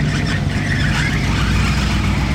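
Car fitted with an Akrapovič exhaust on a Monaco street, its engine droning with a steady low rumble and a slight whine, fairly loud and close throughout with no talk.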